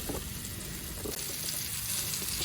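Food sizzles steadily in melted, separated butter in a hot pan, a continuous crackling fry with a faint stir partway through and no talking.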